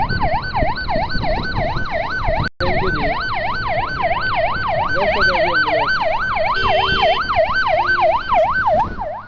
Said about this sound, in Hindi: उजाला वेलफेयर गुरुश्ती की एम्बुलेंस ये गुजर रही है जी